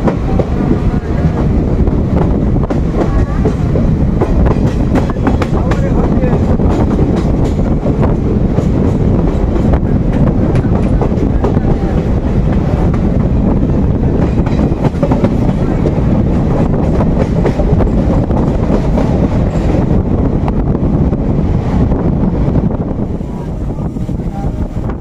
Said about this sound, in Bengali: ছেড়ে দিচ্ছে বিষ্ণুপুর থেকে হেতি এক্সপ্রেস, যাবো খড়গপুর